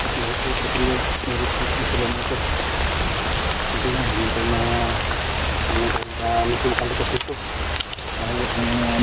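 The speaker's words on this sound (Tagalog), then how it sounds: "Lumakas ang ulan mga boss." Heavy rain pours steadily in a dense, loud hiss, with a voice talking intermittently over it.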